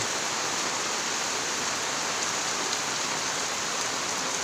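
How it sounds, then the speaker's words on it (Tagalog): Heavy rain pours down in Bicol, a dense, loud, unbroken hiss of drops beating on surfaces, with no voices heard. "Share ko lang kung gaano kalakas yung ulan dito sa Bicol."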